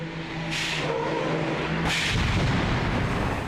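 A stunt car is blasted over by a cannon charge into a roll: two sharp bursts of broadband noise, then a dense, sustained roaring rumble of the crash and tumbling vehicle, loud and close.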